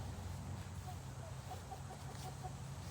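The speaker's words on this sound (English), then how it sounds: "And by ladies, I mean the chickens." Backyard hens clucking softly in a garden during mulching, short scattered clucks spread over a steady low hum of outdoor background noise, with no one speaking.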